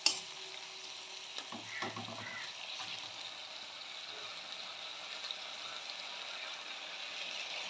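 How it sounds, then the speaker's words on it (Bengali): Tomato puree sautéing in a pan over raised heat for a lau chingri curry, giving a soft, steady sizzle with a few brief stirring scrapes near the start, no one talking. "আমি এবার টমেটো যে পিউরিটা করেছিলাম আমি এটা দিয়ে দিচ্ছি"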